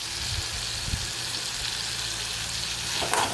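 Tomatoes fry in a pan for a dried prawn chilli dish, giving a steady close sizzle with a few soft stirring scrapes and a brief clatter near the end.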